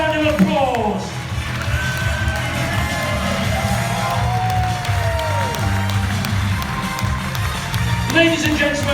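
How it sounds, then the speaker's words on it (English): An audience at a live show claps and cheers as performers leave the stage, a loud, continuous wash of crowd noise with shouts, under music and a voice on a PA. "As they leave the stage, please give them a huge round of applause"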